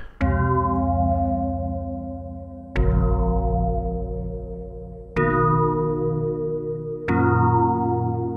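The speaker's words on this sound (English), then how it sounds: "And a real big gong bell type effect." Four deep, resonant gong-like strikes from a Behringer Pro VS Mini synthesizer, each ringing out with a long, slowly decaying metallic tone before the next hit.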